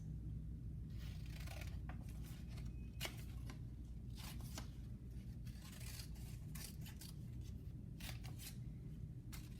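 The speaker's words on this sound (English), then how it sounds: "Then you take your scissors," Scissors cut a paper elephant tail in a children's craft session, giving a quiet series of short, crisp snips spaced irregularly through the stretch over a low, steady background.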